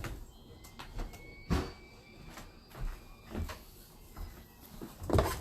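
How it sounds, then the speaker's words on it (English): A door being closed, heard as a series of scattered knocks and rattling thuds, with a louder bump near the end, indoors and fairly close with no talking. "let me close this door"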